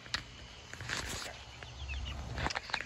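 Chickens cluck softly now and then against a low rumbling background, with a few brief sharper noises, no voices.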